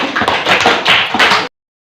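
Enthusiastic applause from a small group of sixth-grade pupils at a class presentation on series circuits, steady clapping for about a second and a half, then it stops abruptly into silence.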